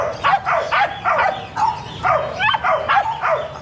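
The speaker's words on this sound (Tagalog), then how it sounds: "Ito po ay Great Dane. Male Great Dane." A male Great Dane at a pet market barks repeatedly, a run of about eight loud, close, deep woofs in a steady rhythm with no talk over them.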